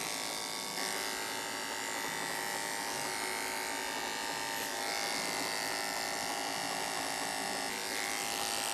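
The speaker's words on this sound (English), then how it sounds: "Clipper comb by Andis." An Andis hair clipper with a clipper comb buzzes steadily while cutting hair for a fade, its high electric whine continuous and close, with slight changes in pitch as it moves through the hair.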